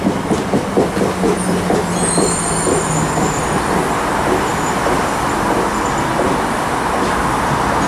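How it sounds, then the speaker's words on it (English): A ScotRail class 334 electric train, the Edinburgh to Helensburgh service, pulls into the station. Wheels click rhythmically over rail joints as it arrives, then a steady loud rolling rumble and a high whine follow. "Coming in now, 1617, first ScotRail service from Edinburgh to Helensburgh, 334024, and it's on its own."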